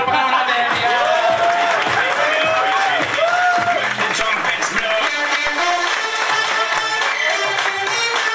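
Audience applause fills a business presentation hall, sustained and loud throughout, with a presenter's voice and background music tones running over the clapping.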